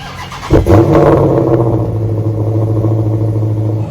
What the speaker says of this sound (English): twin-turbo inline six-cylinder, which is, it's a pretty loud startup